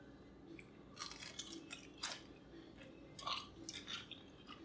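Parmesan crisps are crunched close to the microphone in a series of sharp bites and chewing crackles, quiet overall with irregular bursts of crunch.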